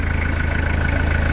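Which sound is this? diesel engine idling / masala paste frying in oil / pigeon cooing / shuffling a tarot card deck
diesel engine idling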